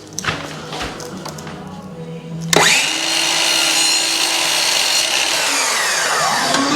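A power saw fitted with a PVC blade bites into composite material with a sudden loud whine, then runs at a steady, bright, sustained cutting pitch after a quieter stretch of handling noises.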